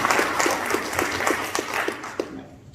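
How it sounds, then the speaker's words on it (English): Audience at an elementary school winter concert claps for the custodial staff, a steady spread of handclaps for a couple of seconds that thins out and fades at the end. "Can we give them a round of applause?"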